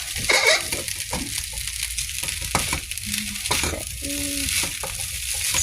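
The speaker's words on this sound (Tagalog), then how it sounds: "Halo-haloin lang natin" Spatula stirring fried rice with cabbage and carrots in a hot pan, soft scraping and steady sizzling close up, with occasional brief clinks.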